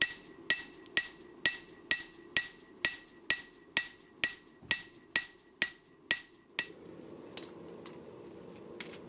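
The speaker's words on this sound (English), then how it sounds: "Now I'm going to start forging in the bevels on the chef knives." A hammer forges bevels into a hot 80CrV2 steel chef knife blade on an anvil, about a dozen sharp ringing blows at an even, steady rhythm, close and loud, then a quieter tail of scraping and light taps.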